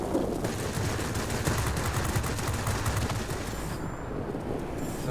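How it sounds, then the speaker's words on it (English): Continuous rapid fire from aircraft 30mm cannons in World of Warplanes, a dense loud rattling stream of shots that barely lets up, with engine roar beneath and no talk. "It's almost like you're firing 30mm cannons."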